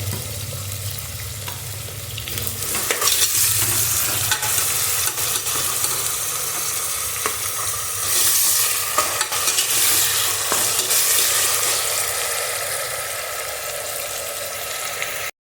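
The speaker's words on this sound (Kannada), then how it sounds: "ಈ ಥರ ಚೆನ್ನಾಗಿ ಫ್ರೈ ಮಾಡ್ಕೋಬೇಕು ಈರುಳ್ಳಿನ." Onions fry in a pan with a little salt, giving a loud, continuous sizzle with stirring scrapes throughout and a low rumble underneath, close up and without voices.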